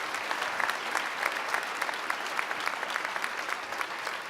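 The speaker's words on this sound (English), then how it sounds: "we should give them a clap for getting me here" Steady applause from a gala audience at the Top 7 Over 70 event in October 2017, a fairly distant, even patter of many hands clapping with no voices, continuing evenly throughout.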